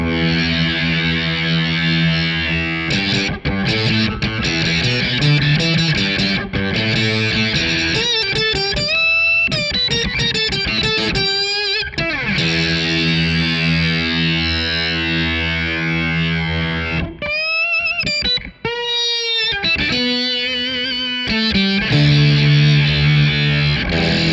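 Electric guitar run through a Source Audio Ultrawave effects pedal with its attack time being adjusted, loud distorted synth-like chords that swell and cut, with bursts of sweeping, warbling notes throughout.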